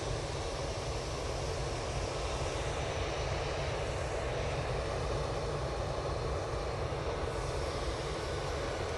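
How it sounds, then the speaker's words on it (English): An Etihad airliner taxis at Manchester Airport, its jet engines producing a steady, loud, broadband roar that holds constant throughout with no voices. "Etihad is on a taxi out towards us now"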